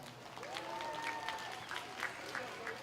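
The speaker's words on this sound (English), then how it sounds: "Let's give her a round of applause." Applause from the crowd at a county fair 4-H/FFA cattle showmanship class, a faint, distant spread of clapping beneath an announcer's voice for a few seconds.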